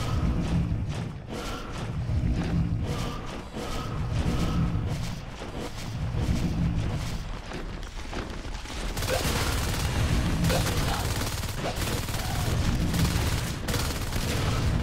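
Rapid bursts of alien gunfire in a biodome level of a sci-fi shooter, loud and continuous with dense crackling volleys and thumps, intensifying in the second half.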